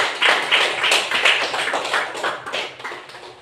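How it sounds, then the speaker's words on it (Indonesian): Students in a classroom clap together for their classmates, a dense, steady patter of hand claps lasting a few seconds, fairly close and without talk over it. "Jadi berikan tepuk tangan untuk anak bapaknya."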